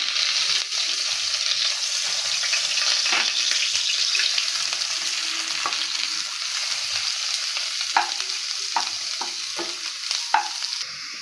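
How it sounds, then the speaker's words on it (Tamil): Watermelon rind is stirred and roasted in ghee in a pan, giving a steady soft sizzle with occasional scraping clicks of the spoon, close up and without talk. "இதை புழிஞ்சிட்டு நெய்யிலே வறுத்துடலாம்"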